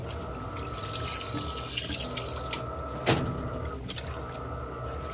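Steady rush of water pouring into an Electrolux LPR17 washing machine as it fills, a continuous broadband hiss with a brief louder splash midway, no voices.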